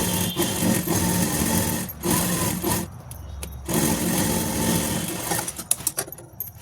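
Sewing machine running in bursts while stitching fabric cut from old denim jeans into a sari cover, a steady mechanical whir with short pauses and clicks near the end.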